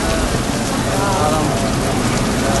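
Heavy rain pours down steadily at Arafat during Hajj, a loud, dense, continuous roar of drops on surfaces close by with no pauses.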